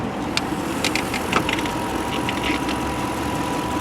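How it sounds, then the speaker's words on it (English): A 1999 Lexus LS400 with its V8 engine idles close by, a steady smooth low hum with light ticking and a few faint clicks on top, no voices. "For this particular car, Lexus used their signature V8 at the time."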